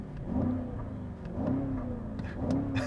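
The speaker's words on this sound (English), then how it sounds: "put it into sport mode and listen to that exhaust" A 2020 BMW X6 M50i in sport mode idles with a deep burbling exhaust, blipped three times in regular rhythm, each rise swelling then settling, close and moderately loud.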